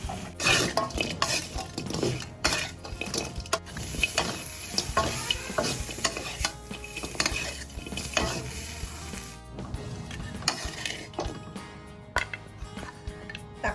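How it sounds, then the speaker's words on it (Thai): Crispy fried catfish pieces being stir-fried fast in a pan, with busy scraping and clattering of a spatula against metal over a steady sizzle, close and fairly loud, with no voices. "เนื้อปลาค่ะใส่ไปผัดเร็ว ๆ นะคะ"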